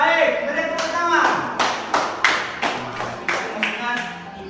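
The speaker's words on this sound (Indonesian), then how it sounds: "Beri tepuk tangan." Students in a classroom clap their hands during an Islamic religion lesson, a burst of several uneven, fairly close claps with talk around them.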